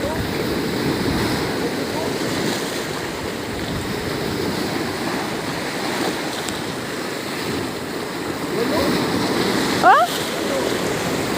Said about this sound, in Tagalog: sobrang lalaki naman ng alon